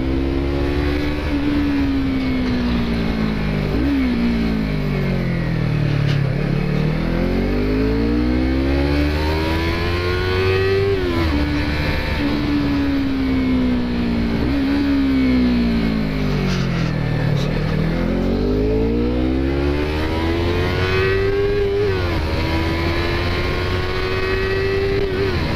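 A Yamaha MT-03 motorcycle engine revs up through the gears repeatedly, pitch climbing and dropping with each shift, loud and steady with no talking.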